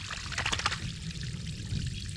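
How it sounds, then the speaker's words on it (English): Water pouring out for flood irrigation of fields on an off-grid goat farm in central Portugal, a soft, steady trickling flow that is fairly faint and close. "As the water's coming out"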